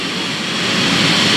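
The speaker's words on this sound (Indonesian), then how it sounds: "Pesawat kedatangan kloter 13 Padang telah mendarat di" A passenger airplane lands at Minangkabau International Airport in Padang, its jet roar a loud, steady broadband rush that swells slightly throughout.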